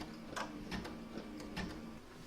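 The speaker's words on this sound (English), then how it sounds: "Next I'm going to stitch round number 7, which is going to do another round of stitching right around the edge" An embroidery machine stitching a round of in-the-hoop stitching around the edge of an oven mitt, a steady mechanical whir with regular light rhythmic clicks at close range.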